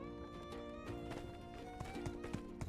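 Horse hooves clip-clop in a steady trotting rhythm in the My Time at Sandrock video game, layered over continuous tonal background music with a few sharper hoof taps.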